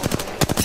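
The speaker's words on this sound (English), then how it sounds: "They're shooting at me." Gunfire in a multiplayer shooter game: a few short, punchy bursts of shots spaced across a brief moment, fairly loud and close, with no talk over them.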